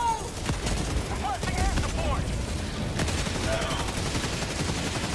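Sustained gunfire from a Helldivers 2 battle, with dense overlapping bursts of shots and rapid fire filling the whole stretch at close range, with a voice faintly audible beneath the clatter.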